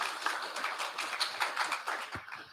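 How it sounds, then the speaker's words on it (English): Applause from an audience at a game design talk, a steady patter of many hands clapping at moderate distance that thins out toward the end. "applause"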